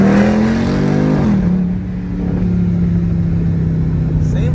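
A Dodge Durango 392 V8 running on E85 revs hard in a quick pull, the loud, close engine note climbing, shifting and then droning steadily as it keeps accelerating.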